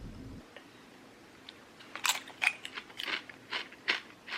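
Shrimp chips crunched between teeth, a burst of close crisp bites and chewing crackles after a brief low thump, loud and repeated in a quiet room.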